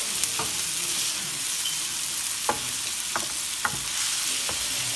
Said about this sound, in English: And now I'm going to mix everything together.